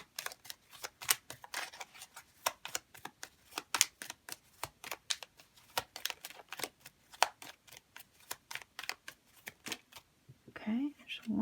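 Making Magic tarot cards are shuffled by hand in a long run of quick, sharp riffling flicks, close and crisp, with a brief rustle at the end.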